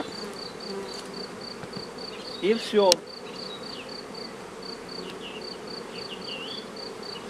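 Bees buzzing around a beehive during beekeeping and wax work: a steady, close insect hum with a brief louder buzzing pass in the middle; someone says a few words.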